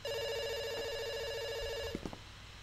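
A telephone rings in the video game Dr Langeskov, a steady electronic trill with a bright repeating tone that cuts off abruptly after about two seconds, followed by a couple of soft clunks.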